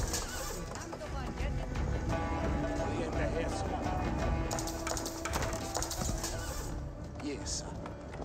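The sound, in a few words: horsemen clip-clopping in video game Age of Empires 4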